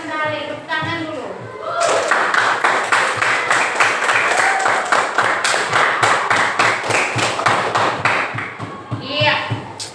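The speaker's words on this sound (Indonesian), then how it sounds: "Tepuk tangan dulu." Primary school students clap together in a classroom, loud close rhythmic clapping lasting several seconds with regular beats, with a voice talking briefly before and after.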